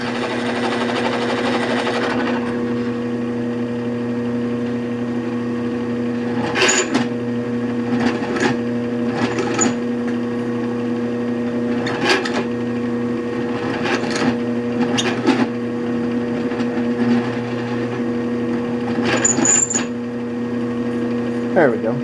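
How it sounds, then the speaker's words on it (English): Power drill cutting a countersink into a bolt hole, a steady loud motor whine with a constant hum, broken by repeated short bursts of grinding as the bit bites. "Gave it a little bit of a countersink."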